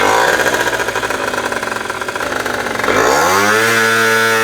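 Derbi GP1 scooter engine with a sticking throttle runs loud and steady at high revs, then drops and climbs again in pitch near the end, a buzzy two-stroke-like drone throughout.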